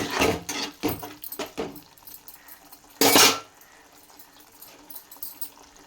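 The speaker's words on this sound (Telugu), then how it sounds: "ఇదిగోండి కొంచెం వాటర్ వేస్తున్నానండి ఇవాళ ఇప్పుడు దీంట్లో" Water is poured into a cooking pot of tomato pulusu over stewed tomatoes, following a few clattering utensil knocks and scrapes. A brief, loud rushing pour stands out near the middle before quieter kitchen sounds resume, with no talking.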